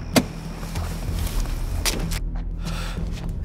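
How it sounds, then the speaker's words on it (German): Limousine arriving in an audio drama, a car engine running steadily with a sharp click near the start, a brief whoosh mid-way and faint mechanical sounds, close and without voices. "Da kommt ein Wagen. Ja, eine Limousine."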